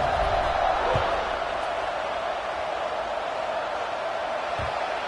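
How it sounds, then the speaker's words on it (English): A football stadium crowd keeps up a steady, loud buzz of noise after a score at a college game against Boston College, with a couple of faint thuds under the constant roar. "this crowd is buzzing after that last score"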